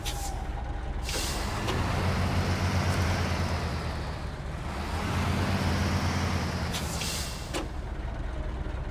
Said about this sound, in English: That put the handbrake on.